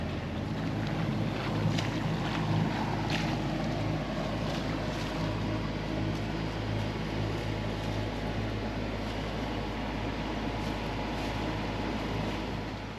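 Sailboat sailing along the coast of Virgin Gorda in the British Virgin Islands, with a steady rush of wind and water around the hull, continuous and fairly loud, no talk.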